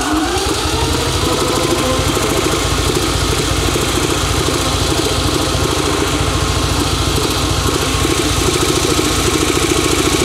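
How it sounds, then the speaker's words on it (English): Triumph Tiger Cub motorcycle engine idling in a workshop, a loud, close, steady single-cylinder putter with rapid even firing pulses throughout. "And then if it fires up, like I hope it will, Eve will come here and we'll check the ignition timing."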